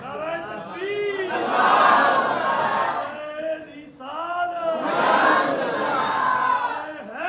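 A crowd at a Muharram religious gathering chants slogans in two loud, swelling bursts of many voices, separated by a short dip, with no single speaker over them.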